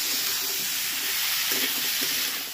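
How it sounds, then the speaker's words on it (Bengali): Diced pumpkin and Malabar spinach fry together in a pan, a dense, close, constant sizzle with faint stirring scrapes beneath and no voices. "এগুলোকে দেখো ভাজতে থাকছি।"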